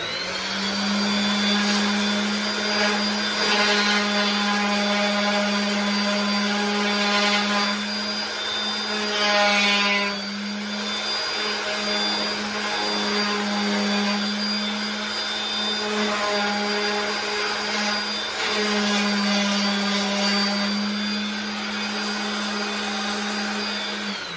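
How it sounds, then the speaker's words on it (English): A power sander with sandpaper runs steadily and loudly for the whole stretch, a constant close whine with a strong hum, slight wavering as it works the surface, and no talking. "line these little holes in this piece of sandpaper up with little bitty holes in this piece of sander"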